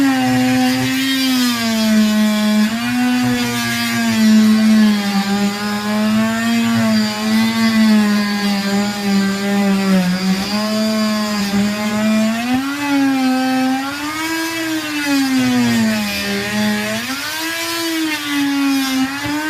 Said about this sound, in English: so I just got all the fiberglass off, cut out of the whole sole here,